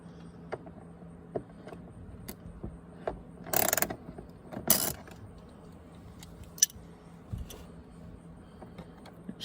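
A 10mm socket ratchet clicks in short bursts as a bolt is backed out, with a few louder metallic clatters and scattered ticks in a quiet room.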